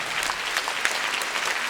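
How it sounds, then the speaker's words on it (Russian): Audience applause at a children's festival gala concert, a dense, steady patter of many hands clapping, fairly near and without talk. "получите свою дозу аплодисментов"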